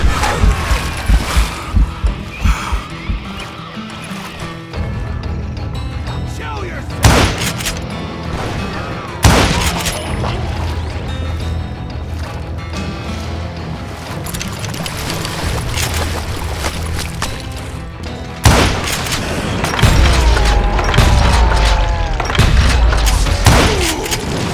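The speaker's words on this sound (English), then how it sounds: "a fusillade of bullets come raining down from on high" Gunfire rains down in Call of Juarez Gunslinger, with repeated loud shots and heavy booming impacts scattered over a dense, continuous din, several sharp bursts standing out clearly above the rumble.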